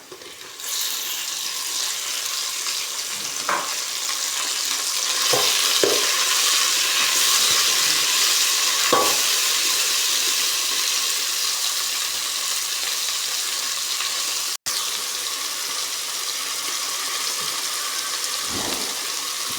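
Garlic and tomato sizzle steadily in a frying pan, a continuous bright hiss broken by a few soft knocks and scrapes of stirring, heard close with no talking.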